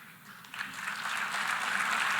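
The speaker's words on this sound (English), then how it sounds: "He's not even getting, like, decent applause." Applause in the UN General Assembly hall, a broad crowd clapping that swells after a quiet start and holds steady at moderate volume, fairly distant and thin rather than a roaring ovation.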